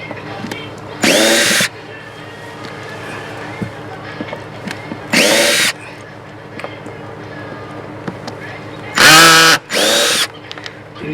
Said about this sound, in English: I'm just going to back the screws out.